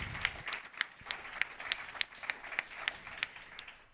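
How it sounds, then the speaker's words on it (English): An audience at a talk on left politics in Europe claps to welcome a guest, a soft, steady patter of many hands with distinct individual claps standing out close by. "So let's give Paul a welcome and applause as well."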